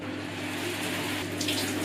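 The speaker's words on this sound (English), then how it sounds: "So they're getting a nice shower today." Shower water running steadily over house plants in a bathroom, a continuous close hiss and splatter with no break.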